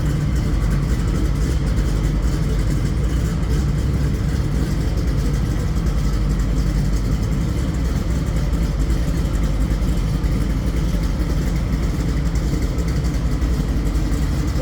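A 1971 Chevrolet Nova engine idles close by, giving a loud, steady low rumble that holds without letup for the whole stretch and has no talk over it.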